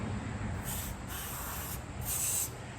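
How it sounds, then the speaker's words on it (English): Neon spray paint hisses from an aerosol can onto fingers in short, close bursts, with a steady background hiss between them. "when I do this part here, I spray my fingers"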